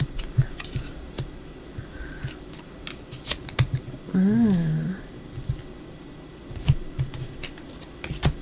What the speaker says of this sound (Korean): 타로 카드 열어보도록 할게요.